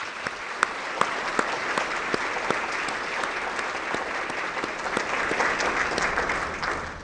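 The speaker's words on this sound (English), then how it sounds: "can we give them a round of applause?" A crowd at an awards-style celebration breaks into sustained applause, a dense, even wash of clapping with a few sharp individual claps popping out, holding steady for several seconds.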